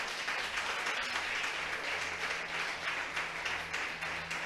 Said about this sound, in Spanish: le da un aplauso grande a Dios